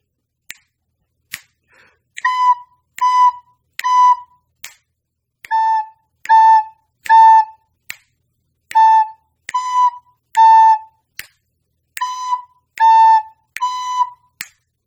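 A recorder plays a simple tune of short, clear notes in small groups of three, with soft taps between phrases.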